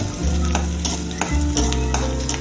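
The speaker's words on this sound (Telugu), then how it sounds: "కరివేపాకు వేస్తున్నానండి." Curry leaves crackling and sizzling in hot oil in a home kitchen, a loud dense spitting with repeated stirring scrapes of a spoon against the pan, no voices.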